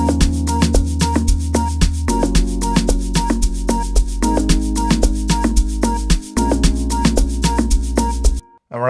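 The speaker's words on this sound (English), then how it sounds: "So I'm just gonna use a simple bass line from Trey Usk, just a simple sine." A simple sine-wave synth bass line copying root notes sits under a full beat with steady drums and sustained tones, pulsing loud and close before dropping out near the end.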